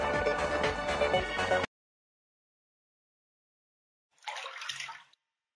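A child's ball dropped into a river gives a short, splashy burst of water after a stretch of music and silence.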